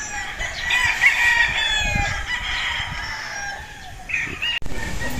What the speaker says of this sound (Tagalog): ang aking Pure Golden Boy Sweater Broodstag